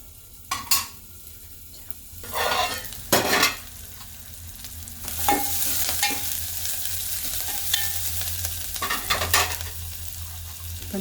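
Onions frying toward golden brown in a pan with the lid on, a steady sizzle broken by a few sharp clatters and knocks, as if the lid is set down or shifted, with no voices.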